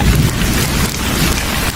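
Heavy rain pours down in a loud, dense roar, drumming steadily on surfaces with a low rumbling undertone.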